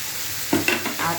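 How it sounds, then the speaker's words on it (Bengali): Ginger garlic paste stirred into hot oil in a pan, a brief scraping stir over a soft sizzle, close and short. "এবার আদা রসুনে বেটে রাখা আদা রসুন দিয়ে দেবো"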